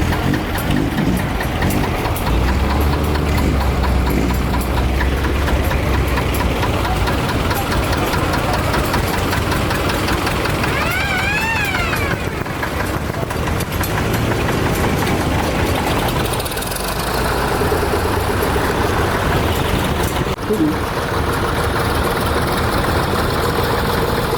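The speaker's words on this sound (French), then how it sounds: "Un tracteur qui s'en va, c'est la bonne." An old tractor engine runs with a loud, knocking low-frequency chug that holds steady for a long stretch, with pitch shifts as it revs and pulls away, outdoors at a rural gathering.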